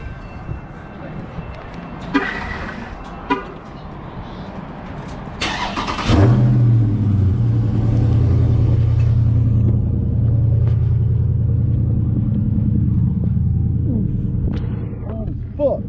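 A Dodge Challenger Scat Pack engine fires up loud and close, settling into a deep, steady rumbling idle with slight revs that runs on for about ten seconds after some brief clanks and knocks in a garage.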